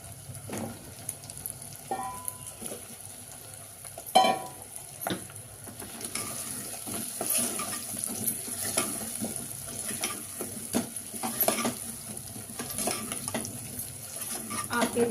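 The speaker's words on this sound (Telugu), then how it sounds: "కొంచెం వేగనిద్దాం. కొంచెం ఫ్రై అయిందంటే ఆలు కొంచెం క్రిస్పీ అనిపిస్తుంది తింటుంటే." Cut potatoes frying with turmeric in a pressure cooker pan, giving a continuous sizzle under repeated scraping and stirring taps from a utensil, close and moderately loud throughout.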